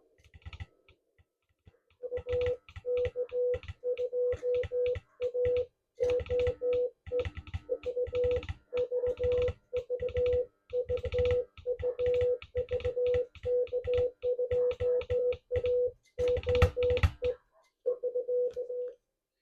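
A Morse code tone from a Hermes Lite 2 receiver transmitting 45 watts beeps in rapid dots and dashes, keyed steadily with clicky edges, sounding close through a small speaker.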